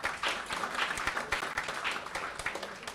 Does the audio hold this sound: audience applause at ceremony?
yes